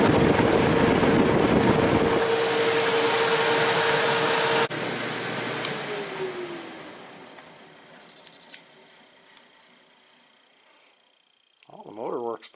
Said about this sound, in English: It's just every little gap is just blasting out the air.